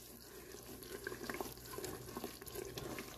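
Caramel mixture boiling in a saucepan while making homemade butterbeer, a steady wet bubbling and gurgling wash with small popping bursts, close and moderately loud throughout, no talking.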